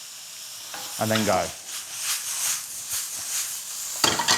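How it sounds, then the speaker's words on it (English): Batter-coated prawns sizzle and hiss in a hot pan after a dash of water goes in, a steady frying crackle with a few words spoken briefly over it. "Add a dash of water. The steam will lock in that gorgeous flavour. Let it sizzle down"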